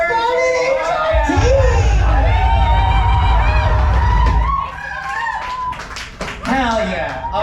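An audience at a punk show in a small Brooklyn venue breaks into loud, sustained applause with whoops and cheers, filling the room for several seconds before tapering off as voices talk over the fading clapping.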